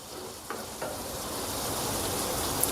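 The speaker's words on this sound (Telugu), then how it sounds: "చాలా మెల్లిగా ఇలా ఒక్కొక్కటిగా తీసుకొని కలుపుకోండి లేకపోతే బీరకాయ చాలా సాఫ్ట్గా ఉంటుంది" Soft ridge gourd pieces gently stirred in a pan, with a steady loud frying hiss and a couple of faint spoon touches, close by and without speech.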